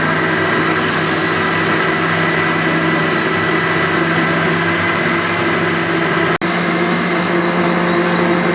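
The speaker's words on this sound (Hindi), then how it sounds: "अब ये जो जामुन का गुद्दा है वो अच्छी तरीके से ब्लेंड हो चुका है।" A kitchen blender whirs steadily as it purees jamun fruit pulp with water, a loud, continuous motor drone with one brief cutout near the end and no talk.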